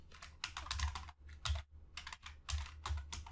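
Keys clack in rapid bursts with short pauses as an email address is typed on a computer keyboard while installing WordPress, close and fairly quiet with no talk.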